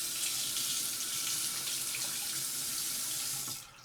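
A bathroom tap runs steadily into a sink during a wet shave, a close hissing splash that holds evenly for several seconds before cutting off near the end.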